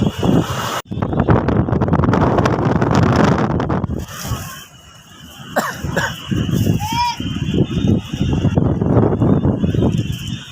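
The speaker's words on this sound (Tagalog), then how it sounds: "Grabe, napakalakas ng hangin." Strong wind gusts across a hanging bridge, heavy buffeting roaring against the microphone. The gusts ease briefly midway, then build again, with a cough and a few faint voices under the noise.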